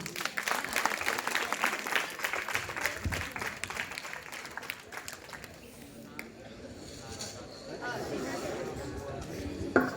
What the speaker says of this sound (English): Claps for you.